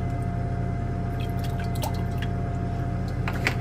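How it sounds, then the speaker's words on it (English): Distilled water poured into a small laboratory beaker in a metal-refining setup, a short steady trickle with light drips and splashes over a constant background hum, no talking. "Add a little distilled water there."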